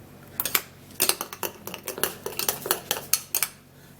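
A face mask mixture gets stirred in a small dish, producing rapid clinking and scraping taps of a utensil against the bowl in irregular bursts, close and fairly clear.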